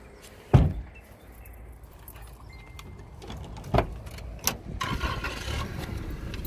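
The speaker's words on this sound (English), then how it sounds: "I'll open the door the traditional way." A worn, rusted Toyota Estima minivan door opens with a sharp metallic clunk and latch click near the start. Softer knocks and a rattle follow, and a rising engine-like hum fills the final seconds.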